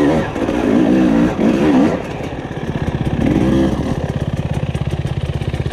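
A 2021 Husqvarna TE300i two-stroke dirt bike engine revs hard in fourth gear, loud and close, with repeated surging rises in pitch that fall back into a rapid pulsing stutter.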